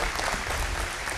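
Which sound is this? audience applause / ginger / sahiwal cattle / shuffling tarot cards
audience applause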